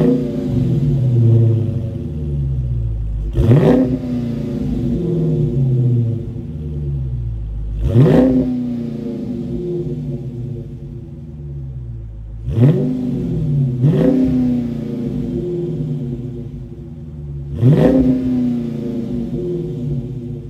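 A 2022 Dodge Challenger Scat Pack 392 with a 6.4 liter Hemi V8 and dual exhaust, heard close up as it idles with a deep rumble and blips through five sharp, loud revs spaced a few seconds apart.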